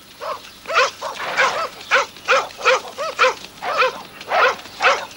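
A dog barks repeatedly in loud, rhythmic bursts, with yips and whimpering tones, while chasing livestock in the Abruzzo countryside of Italy.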